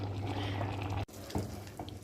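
Cooked apple pie filling with cinnamon is poured from a pot into an oven-safe pan, a soft, faint, thick sloshing pour broken by a brief cut, no talking.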